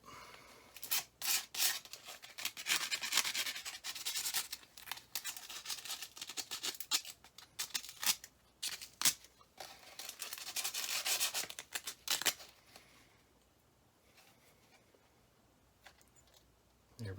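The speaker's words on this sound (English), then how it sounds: "We're just going to give it a bit of a sanding." A furnace flame sensor is rubbed with orbital sandpaper in close, steady scratchy strokes that run for about twelve seconds, then stop, leaving near silence.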